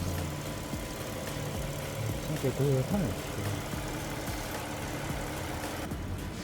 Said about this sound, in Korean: 엔진 소리 좋다.